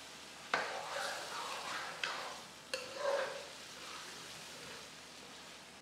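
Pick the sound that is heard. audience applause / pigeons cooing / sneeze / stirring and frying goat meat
stirring and frying goat meat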